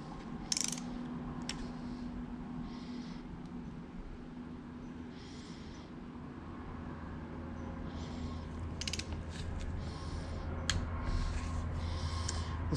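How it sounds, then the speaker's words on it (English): Water pump bolts on a John Deere X585 being tightened with a torque wrench: repeated short ratchet clicks in several bursts over a steady low hum, fairly quiet and close, with no talking. "I've got my torque wrench set to 15 pounds"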